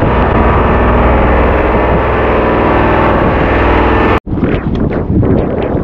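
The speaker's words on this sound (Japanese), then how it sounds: "ちょっとやっぱ風がきついですね" Strong wind roaring over a microphone on a boat, loud and continuous with heavy buffeting, cut by a brief drop before gusts return.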